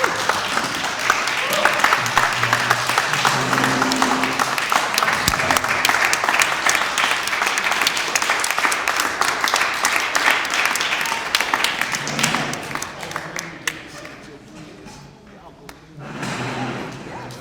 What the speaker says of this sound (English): And please, one more round of applause for our wonderful Cook County State's Attorney, Ms. Kim Foxx.